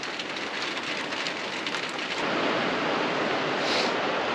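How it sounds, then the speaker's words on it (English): Heavy rain with big drops falling outdoors, a dense, steady roar of water that swells a little louder partway through, with no voices. "Big drops. That dog likes the rain."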